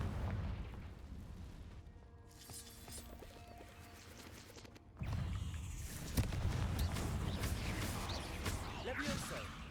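A Confringo spell blast in Hogwarts Legacy: a sudden loud burst partway through, after which a dense crackling roar and further impacts carry on over a busy game soundscape.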